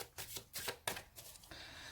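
Tarot cards being shuffled and handled, a run of quick riffling bursts and soft card slaps, close and clear with no talking.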